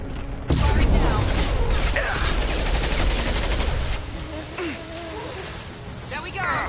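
Rapid bursts of gunfire in the sci-fi shooter Mass Effect 2 clatter loudly and densely for several seconds, with scattered impacts and combat noise around them.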